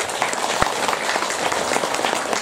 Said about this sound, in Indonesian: Tepuk tangan yang ikhlas.